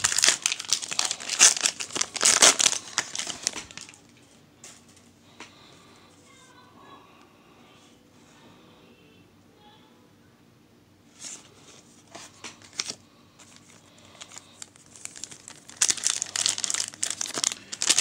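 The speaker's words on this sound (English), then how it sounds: "I love opening up the penny packs." Pokémon card penny-pack wrappers are torn open and handled up close: loud, dense crinkling bursts at the start, again midway and at the end, with quieter rustling between.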